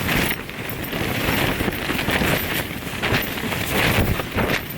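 Strong wind buffets a campsite during a storm while a tent is being pitched, a loud continuous roar with gusty surges and no voices.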